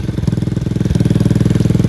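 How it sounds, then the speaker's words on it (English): A Lifan KP Mini 300 single-cylinder engine runs close up with an exhaust leak at the head flange, giving a loud, rapid, evenly pulsing chuff that quickens slightly midway and holds steady. "it's just pissing exhaust from the flange"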